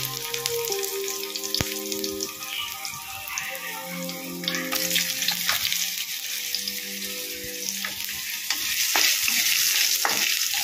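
Potatoes frying in oil in a pan for a Bengali vegetarian ghonto, giving a steady, close hiss and crackle with occasional stirring clicks and no voices.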